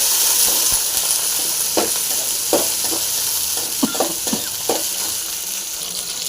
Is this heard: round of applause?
no